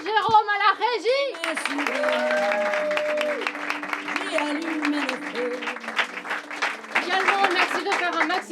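Audience applause at a live theatre show, thanking the sound technician: dense, steady clapping that fills the hall throughout, while a voice speaks over the top.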